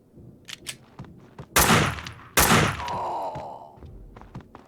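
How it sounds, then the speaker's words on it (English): Gunfire in the Max Payne 2 video game: two heavy, booming shots ring out close and loud, each followed by a long decaying rumble, among scattered thumps and clatter. "Someone must have heard the gunfire."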